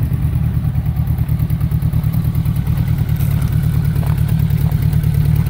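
A 1977 Honda GL1000 Goldwing motorcycle engine runs steadily nearby, a loud, low, even throb with a rough, pulsing texture and no talking over it.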